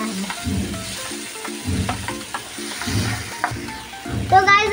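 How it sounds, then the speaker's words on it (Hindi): Chopped red and green capsicum frying in a pan for chicken candy, with a crackling sizzle under repeated rhythmic scraping strokes of a spatula against the pan, close and clear, with no voices. "फिर इसके बाद इसमें ऐड करेंगे रेड एंड ग्रीन कैप्सिकम, जिसको अच्छे से चॉप करके रखें। इसको भी अच्छे से भून लेना है।"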